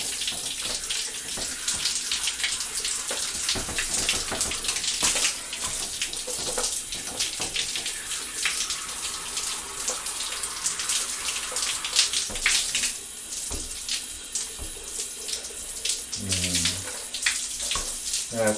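Water gushes steadily from a tap into a filling bathtub, a close, continuous splashing rush that runs unbroken for nearly twenty seconds, with a faint voice briefly audible beneath it.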